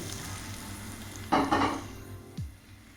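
Chicken frying in a pan after a few tablespoons of oil go in, a low steady sizzle that flares into a louder burst of crackling mid-way, followed by a brief clatter of stirring.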